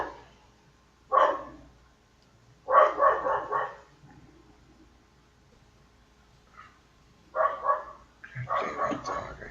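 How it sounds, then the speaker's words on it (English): A dog barks in several separated bursts, each a cluster of quick, loud barks close by, with quiet gaps between them. "Damn that dog."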